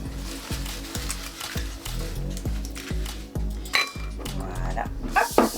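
Eggs being stirred for madeleine batter, a utensil knocking against the bowl in a steady rhythm of sharp clinks, close and fairly quiet, with a few brighter scrapes toward the end.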